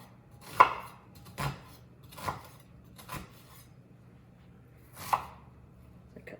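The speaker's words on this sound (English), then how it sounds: "I'm going to cut these slices in, not all the way through the onion at the end" A knife slices through an onion on a cutting board in five crisp, separate strikes with short pauses between them, close and clear in a quiet kitchen.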